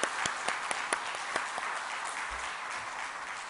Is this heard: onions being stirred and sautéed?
no